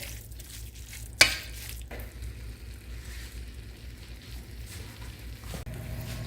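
Shepherd's pie filling is stirred in a pan with a little liquid added, a quiet continuous sizzle and bubbling with one sharp spoon clack near the start.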